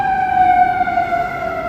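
An emergency life squad vehicle on a Chicago street sounds its siren, a loud, steady wailing tone gliding slowly downward as it passes nearby, alone without talk.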